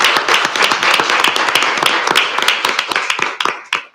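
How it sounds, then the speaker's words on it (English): A crowd at a city council meeting in El Centro gives a round of applause, dense steady clapping close and loud that thins out and fades over the last second. "Can I have a round of applause, please?"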